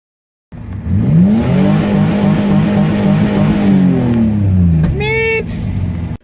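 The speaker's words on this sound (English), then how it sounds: "enjoy this dirty old golden oldie of the F-600 Cold Start Old Start" An old Ford F-600 truck engine cold-starts at -22F and revs hard, a loud steady rumbling roar with rising and falling pitch for several seconds, ending in a brief higher whine before cutting off.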